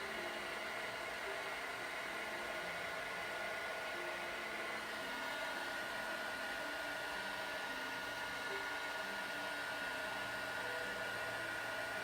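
A heat tool blows a steady, even hiss of hot air over embossing powder on a card, constant and fairly faint throughout, with no talk.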